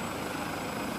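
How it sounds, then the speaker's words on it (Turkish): Gökbey general purpose helicopter in flight during speed and altitude tests, a steady dense rotor and engine roar, continuous and loud with no voices. "Gökbey helikopteri ile son dönemde hız ve irtifa testleri gerçekleştirildi."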